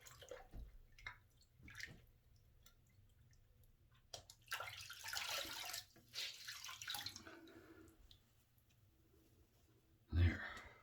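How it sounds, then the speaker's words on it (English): A washcloth rinsed under a running tap after shaving, producing a hissing water flow with splashes and drips, close but fairly quiet, with a breathy voice sound and a sharp thump near the end. "Let's just rinse out the washcloth."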